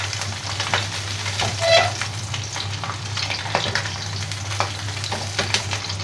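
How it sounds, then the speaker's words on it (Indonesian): Japanese tofu fries in hot oil until golden, giving a steady, close crackling sizzle with scattered pops and a faint stir partway through, and no one talking. "Kita goreng sampai kuning keemasan ya guys ya."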